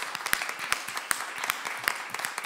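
Audience applause at the end of a lecture: a steady patter of many hands clapping at moderate distance, continuous and even throughout.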